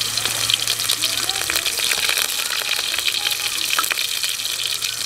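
Cumin with onion paste and ginger paste sizzles in a hot pan, a continuous bright crackling hiss with scattered pops, close and steady throughout.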